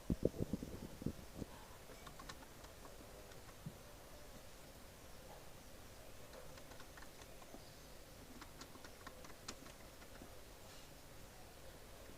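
Quiet typing on a computer keyboard, scattered soft key clicks at an irregular pace with a faint background hiss, a few louder taps near the start.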